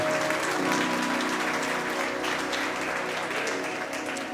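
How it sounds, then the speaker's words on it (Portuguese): A church congregation applauds, a dense and steady wash of clapping that stays fairly loud and even for the whole stretch, with no voices standing out above it. "Dê uma salva de palmas para Ele, para Jesus."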